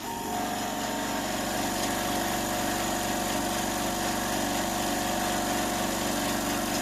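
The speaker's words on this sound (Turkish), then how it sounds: "evde kompresör çalışıyor" A steady mechanical motor hum from a Proter 50-litre silent air compressor running indoors, with a constant drone and faint high whine, continuous at moderate loudness with no pauses.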